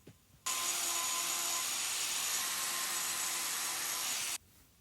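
A hoof-trimming tool works on a cow's hoof, making a loud, steady whirring roar that starts abruptly, holds for about four seconds, then cuts off, with no talking.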